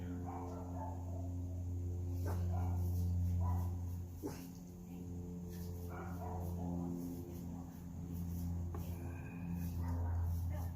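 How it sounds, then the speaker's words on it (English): A dog across the street and two houses over barks intermittently, faint against a steady low hum and background noise. "across the street and 2 houses over does have a dog that's barking right now"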